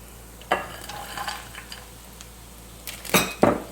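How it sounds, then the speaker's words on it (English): Frozen vegetables tumble into a pot of cooking onions for a Jamaican vegetable rundown, giving a sharp clatter, a few softer scrapes and stirs, then two louder splashy rattles near the end, close and without talk. "I'm going to go ahead and add my vegetables. And here go my vegetables."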